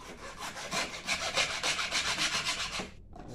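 A pintado fish head being sawn through with a saw, a close, steady run of rhythmic rasping strokes for about three seconds before it stops abruptly.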